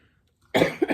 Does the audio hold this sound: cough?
yes